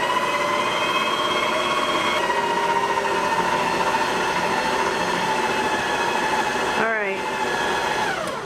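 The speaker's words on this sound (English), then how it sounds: "I can hear that motor starting to strain a little bit as the dough was starting to come together" VIVOHOME stand mixer motor kneading cookie dough on speed 1, a steady loud electric whine with tonal hum that briefly dips and shifts pitch near the end as the motor strains.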